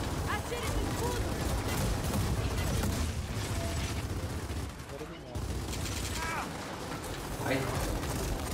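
Dense, continuous bursts of gunfire and explosions in Gears of War 4 fill the scene, loud and close, with a voice talking faintly underneath.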